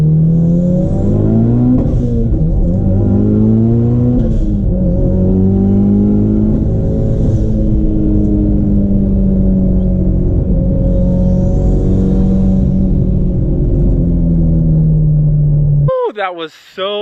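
Mitsubishi Evo X and Evo 8 cars in a street race, loud engines revving and accelerating through repeated gear shifts, rising and falling harmonics for about sixteen seconds, ending with a brief burst of voice.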